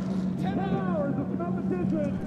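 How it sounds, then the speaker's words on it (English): Race car engines with 6 to 12 cylinders, some turbocharged and some naturally aspirated, fire up and rev at the 2014 Petit Le Mans, a steady rising and falling mechanical drone under a commentator's voice. "And with that, the engines fire up. 6, 8, 10, 12 cylinders, turbocharged and normally aspirated."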